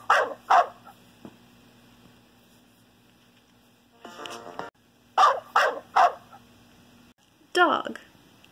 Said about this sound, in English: D is also for dog.